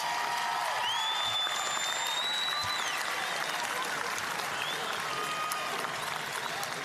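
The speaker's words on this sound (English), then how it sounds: "Let's give them a big round of applause" A graduation crowd at Auburn High School applauds families and fathers with sustained, dense clapping that fills the whole stretch, with whistles and cheers rising above it.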